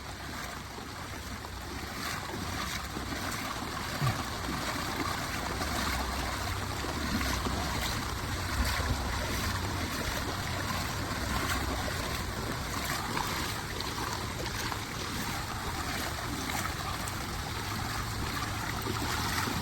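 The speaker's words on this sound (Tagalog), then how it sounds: "Ang hirap maglakad kapag medyo malalim yung tubig, napanghina." Someone wades through deep floodwater on a street in San Mateo, Rizal, a steady heavy sloshing and churning of water that stays close and continuous, with no talk.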